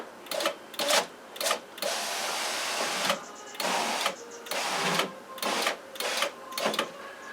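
Window regulator motor in the door of a 2008 Ford Focus raising the glass: repeated whirring, grinding bursts in short stop-start pulses, close and fairly loud, with brief pauses between runs.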